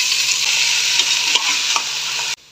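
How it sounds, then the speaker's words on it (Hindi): Meat sautés with whole garlic and ginger in a little oil inside a pressure cooker: loud, continuous sizzling with stirring scrapes, cutting off abruptly just before the end. "फिर साथ गोश्त डालकर भून लेंगे ताकि गोश्त की स्मेल खत्म हो जाए"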